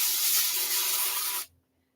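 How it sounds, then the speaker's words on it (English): Avocado oil spray misting onto food on a grill, a steady close hiss lasting about a second and a half, then cutting off sharply into silence. "So this is some avocado oil spray"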